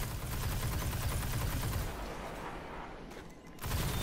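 Gunfire in a video game rattles on continuously in dense rapid bursts, loud and close, thinning briefly midway before the heavy firing resumes.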